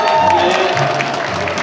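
An outdoor crowd at a Wednesday rally applauds students from Deokyang Middle School, with loud, sustained clapping and cheering that fills the space.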